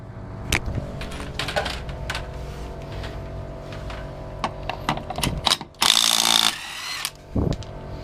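Ratchet turning a 21mm socket on a rear spring bolt of a Toyota Cressida MX62, with clicking ratchet strokes and metallic clanks, plus a brief louder burst of mechanical noise, close up in a workshop.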